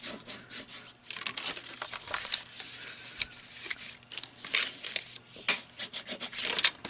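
Paper pinwheel card flaps are folded back and creased by hand, close, dry rustling and rubbing strokes in uneven bursts with no voices.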